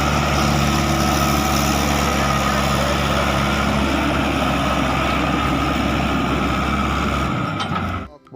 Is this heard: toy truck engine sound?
yes